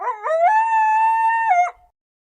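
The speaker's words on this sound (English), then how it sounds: "That's a coyote." A coyote gives a single clear, close howl. It rises in pitch, holds a long steady note, then drops and cuts off into silence.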